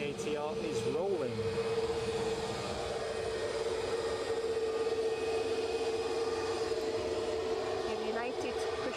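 An ATR turboprop rolls for takeoff at Edinburgh airport, a steady propeller drone with a sustained tonal hum and shifting whines, heard at moderate distance with a voice in the background.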